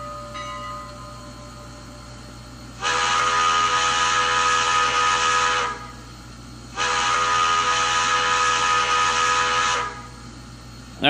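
Two long, bright steam whistle blasts from a TCS WOW sound decoder in a Bachmann PRR K4 model steam locomotive, each lasting about three seconds with a pause between, over a low mechanical hum.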